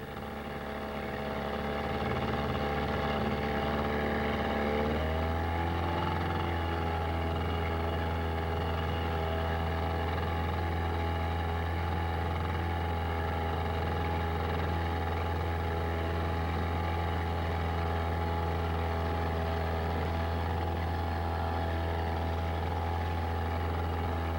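A motorboat engine drones steadily in a channel, its pitch shifting once early on as it rises in intensity, then holding a loud, continuous hum.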